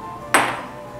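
Pieces of lotus root dropped into a pressure cooker pot for lotus root and pork rib soup: a single sharp, close clack that rings briefly and fades.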